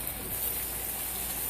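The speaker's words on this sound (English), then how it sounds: "I'm going to rinse my hands off." Tap water runs steadily as hands are rinsed in a home kitchen during cooking, a constant close splashing hiss with no pauses.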